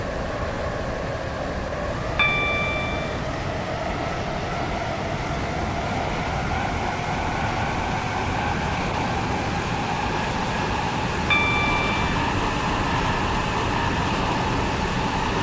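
Two-coach WaterLine passenger train to Newry rolling between stations, a steady broadband rumble of wheels and motors throughout, with two short electronic chime tones sounding at the start and again near the end.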